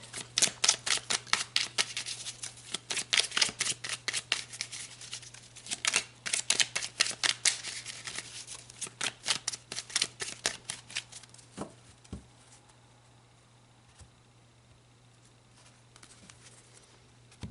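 Tarot cards shuffled in the hands, a long run of rapid, crisp riffling flutters that slow and thin out, followed by a few soft taps and slides as cards are drawn and laid down, close and alone.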